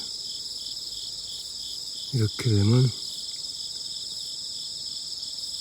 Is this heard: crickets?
yes